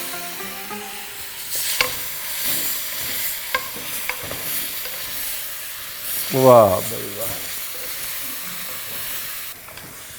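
Marinated mutton is added to a pressure cooker with onions and coriander, then sizzles and fries while being stirred, with scraping stir strokes over a steady hiss and a short exclamation from a voice.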